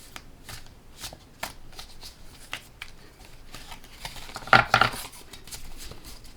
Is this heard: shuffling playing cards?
yes